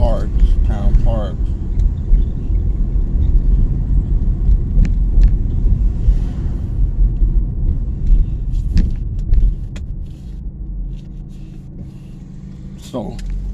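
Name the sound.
car driving down a street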